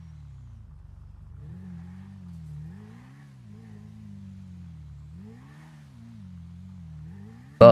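A car engine in GTA V gameplay drones at full speed with a low rising and falling pitch, steady and moderately close, ending in a sudden sharp burst.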